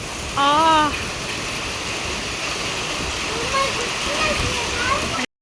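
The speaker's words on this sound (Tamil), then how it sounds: "3 மணி நேரம் சரியான மழை." A steady, loud wash of heavy rain falls near a home's open balcony doors. A short voiced sound rises over the rain near the start, and fainter tonal sounds drift in toward the end.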